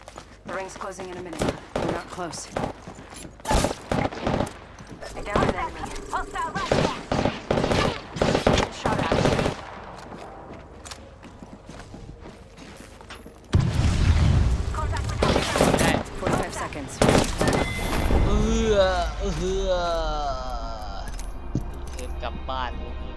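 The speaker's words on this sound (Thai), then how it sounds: "มื่อกี้โดนระเบิดแล้วปั๊มยาอยู่อ่าฮะ" Gunfire and explosions from the video game Apex Legends crackle in rapid bursts, with sharp shot clusters early on and a deep booming blast midway, while a player talks over the action.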